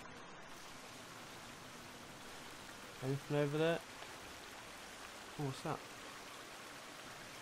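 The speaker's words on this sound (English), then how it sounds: "there's so much water I can hear" Steady rushing water fills the scene in the survival video game The Forest, a constant hiss of flowing or falling water heard throughout, with a person briefly talking over it.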